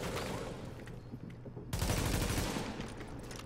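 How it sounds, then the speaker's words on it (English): A burst of rapid blind-fire gunshots in The Division video game, dense and crackling, dipping briefly before a louder second volley. "that was a blind fire that didn't really work out"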